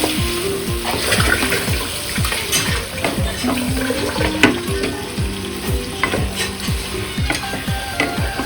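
Marinated mutton sizzles hard in a pan while being stirred, with steady crackling frying noise and repeated scraping stir strokes throughout, close and fairly loud.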